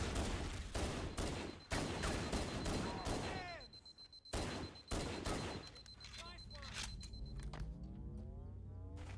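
Rapid pistol gunfire in Halo: Combat Evolved, a loud string of sharp repeated shots in bursts, with sci-fi whirs, chirps and other battle effects between them.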